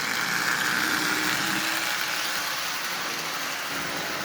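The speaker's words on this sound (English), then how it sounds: "a old junk motor that is up and running" A repaired, worn-out Marx prewar toy motor running, a continuous even whirring hum with a broad hiss, steady and close with no pauses.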